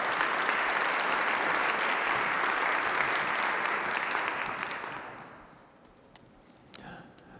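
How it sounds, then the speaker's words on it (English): A large crowd at a football facility unveiling inside Cole Field House, Maryland, applauds loudly and continuously, the clapping thinning and fading away near the end, leaving a few stray claps. "Let's give them another round of applause"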